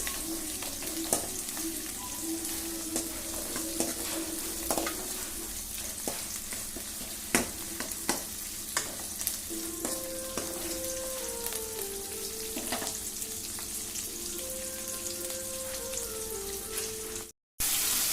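Onions and curry leaves sautéing in a pan for sambar: an even, moderate sizzle with scattered spatula clicks and a faint low hum underneath, ending in a brief cutout.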